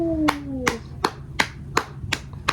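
A single person claps slowly and evenly, about seven distinct claps close to the listener, with a brief tonal sound under the first few claps and quiet background otherwise.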